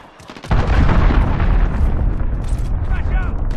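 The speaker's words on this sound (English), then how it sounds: "Cruise missile away." A cruise missile explodes in Call of Duty Modern Warfare: a loud sudden boom with a sustained roaring rumble that rolls on after the blast, with a voice speaking faintly in the background.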